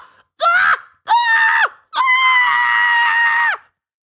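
A voice imitating a character screaming, three loud strained cries in a row, the first two short and the last one long and sustained before cutting off, with no other sound around them.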